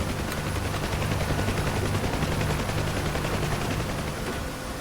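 Constant rotor thump of a helicopter in a video game with rattling gunfire mixed in, loud and continuous throughout, no talking.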